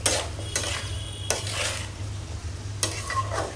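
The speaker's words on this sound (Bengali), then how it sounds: "একসাথে একটু ভেজে নেব" Shrimp fry in a pan on a home gas stove, giving a steady sizzle broken by several scraping stirs of a spatula and clinks of metal against the pan.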